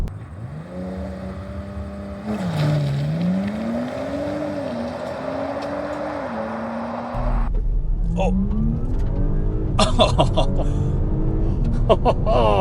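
A 2025 Audi S5 accelerates hard to 100 km/h, its engine note climbing steadily through the gears with a clear shift dip, then a louder surge as road and wind roar build near the end.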